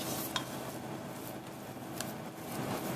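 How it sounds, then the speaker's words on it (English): Choux pastry dough being stirred in a pan, quiet continuous scraping and slapping of a spoon against metal with a couple of small clinks, heard close up. "Miriam's going to stir until this is all mixed in"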